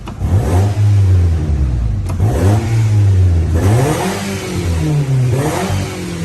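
Nissan Teana 2016 engine revved repeatedly up close, with loud rising and falling swells of revs over a steady idle, after a fuel-injection check and ECU reflash.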